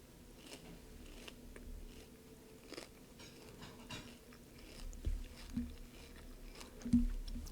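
Quiet, close crunching and chewing of a crispy rice treat, with irregular crisp bites growing a bit louder toward the end.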